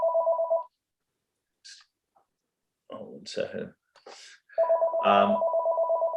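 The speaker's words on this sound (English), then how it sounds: "you get some phone calls ringing and I can't turn it off" An office telephone rings with a steady electronic double tone during a work-from-home video call for a board meeting, cutting off as someone speaks briefly, then ringing again loudly under his voice.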